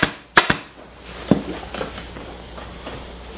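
A staple gun fires staples through upholstery fabric on a bentwood rocker being restored. Two sharp, close snaps come in quick succession, then a softer third one, over a faint room hiss with no talking.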